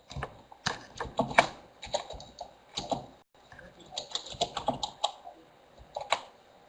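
Typing on a computer keyboard during an online farm seminar, quick irregular bursts of close clicking keystrokes with short pauses, fairly quiet and with no talking.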